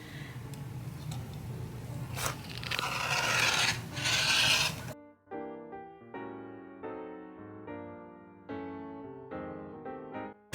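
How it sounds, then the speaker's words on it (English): Two pieces of fabric are cut down to 10 by 22 inches for a microwave popcorn bag, with close rasping, rubbing cuts for about five seconds before music takes over. "we are going to start by cutting our 2 pieces of fabric, both down to a 10 by 22 inch piece"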